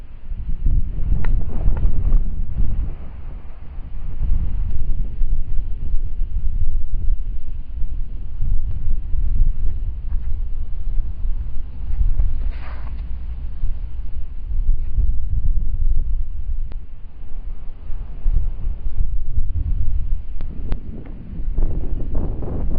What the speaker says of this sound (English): I'm going to wait for the wind to die down